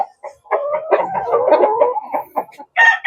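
A rooster on a farm keeping Dekalb Brown laying hens, clucking then breaking into a crow, loud and close, with short calls before and a fresh call at the end.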